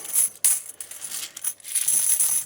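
Bright metallic clinking of 90% silver quarters poured and jingling together, close up, in quick repeated clusters.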